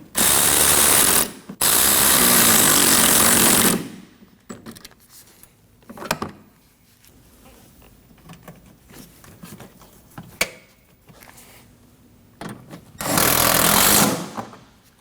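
Hardware being snugged down with a power ratchet while installing a front strut and cowl on a 2015-2024 Ford Edge: loud whirring bursts near the start and end, with light clicks and handling noises between, no talking.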